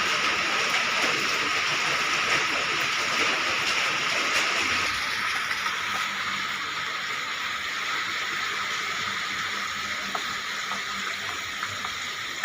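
Rain falling outside a house on a wet morning makes a dense, steady hiss that holds evenly throughout, heard from indoors with no speech.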